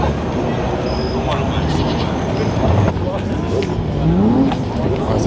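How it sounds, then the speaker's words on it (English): A supercar engine at a busy summer evening car meet, rumbling amid constant crowd noise and chatter, with a short rising rev swelling near the end. "I say it sounds like a supercar."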